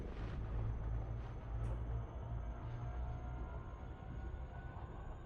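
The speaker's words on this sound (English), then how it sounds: "Frameshift drive charging. Ready to engage." A low, steady rumbling roar builds as an Elite Dangerous ship's frameshift drive engages for a jump, a sustained deep engine drone with a faint high whine above it.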